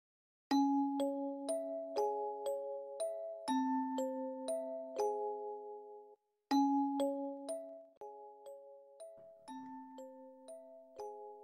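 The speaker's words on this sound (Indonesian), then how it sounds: "jangan lupa nyalakan lonceng notifikasinya" A bright chiming bell sequence rings out in clean repeated phrases, two rounds of sustained tones separated by a short gap, with no voices.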